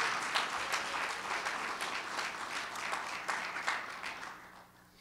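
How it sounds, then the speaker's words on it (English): An audience at a Veterans Day ceremony claps for veterans in attendance, a steady wash of applause from a sizable crowd that carries on for several seconds and then starts to thin out. "how about a round of applause for our veterans here present?"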